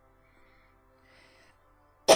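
A single sharp, loud cough bursts out at the very end after near silence with faint background sounds, from a man who has been coughing repeatedly.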